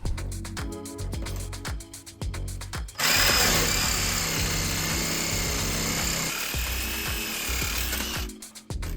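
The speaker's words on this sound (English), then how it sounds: "I ended up picking up one of these Lennox Menowolf blades that's 14 teeth per inch, and with that it was time to get back to cutting" A Sawzall reciprocating saw fitted with a new 14-teeth-per-inch Lenox blade cuts through a car's metal body with loud, rapid buzzing strokes. Up close, the saw grinds steadily and then breaks into a harsher, louder screeching cut partway through.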